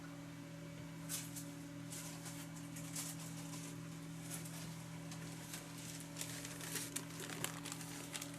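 Thin dictionary paper being crumpled and crinkled close up, a steady run of dry rustling with brighter crackles over a low constant hum.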